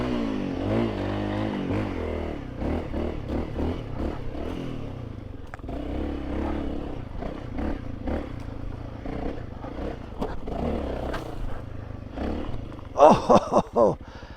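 A Honda CRF300L ridden off-road through sand and shrubs with an aftermarket exhaust gives a rough, pulsing engine note that rises and falls with the throttle, close up against wind buffeting, with a rider talking at times and a sharp revving burst near the end.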